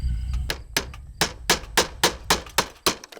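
A hammer strikes a sharp chisel during window installation on a house, about nine crisp, evenly spaced blows ringing close and loud over a low background.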